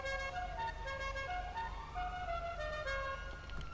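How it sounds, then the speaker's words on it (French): Car horn in the video game GTA V, a sustained musical honk with shifting pitch over a low engine rumble, fairly quiet and steady across the short stretch. "En plus, j'avais pas remarqué que j'avais ce klaxon."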